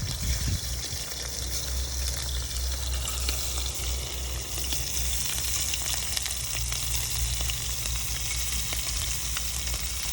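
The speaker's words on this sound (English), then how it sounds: "So I'm gonna place each shrimp in the same direction." Shrimp fry in olive oil in a home kitchen pan, a steady, dense sizzle that holds evenly for about ten seconds with no talking.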